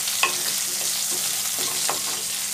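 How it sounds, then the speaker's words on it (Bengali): Cumin and onion fry in a pan with a constant close sizzle, broken by a few soft scraping strokes of a spatula stirring at an uneven pace, with no one speaking. "এবার এটা ভালো করে নাড়িয়ে নেব"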